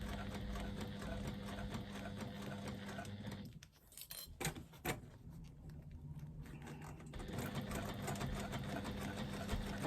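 A sewing machine runs steadily while stitching a strap in light cream contrast top-stitching thread, the strap slung over the shoulder to feed straight. The whirring pauses briefly midway, leaving a few soft clicks and handling sounds, then resumes.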